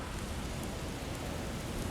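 Heavy rainstorm in God of War Ragnarok, dense broadband hiss of pouring rain with no clear breaks, steady and moderately loud, no voices.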